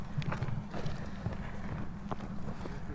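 A horse moves nearby at an excavation dig, its hooves giving soft, irregular clip-clops over a low rumble of wind for a few seconds, with no voices.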